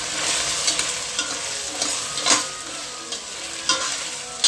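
Potatoes, carrots, green peas and cauliflower fry and get stirred in a hot pan, a steady close sizzle broken by scraping stir strokes at irregular moments.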